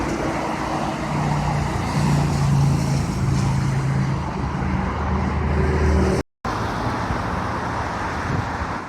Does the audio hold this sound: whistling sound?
no